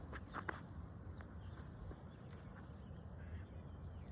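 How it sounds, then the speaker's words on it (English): A mallard duck gives a few short, faint squawks early on, heard at a distance over a steady outdoor background hiss on a calm morning. "No, that's a mallard. That's a mallard squawk."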